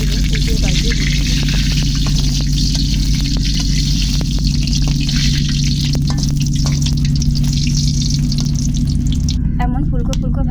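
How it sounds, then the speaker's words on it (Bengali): Banana fritters in batter fry in hot oil in a wok, a dense continuous sizzle with bubbling crackle that holds steady throughout, close and loud. "এবার ব্যাটারটার মধ্যে কলাগুলো মিক্স করে কড়াইয়ে সুন্দর করে ছেড়ে দেব। এইভাবে একে একে সবগুলো ভেজে নেব।"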